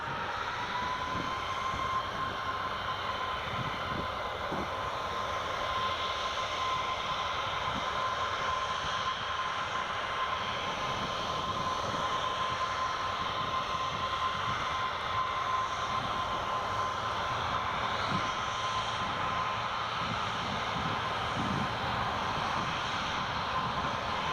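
A CityJet CRJ 1000 jet airliner at Newcastle Airport, a continuous distant jet engine roar with a steady whine, unbroken throughout and with no talking.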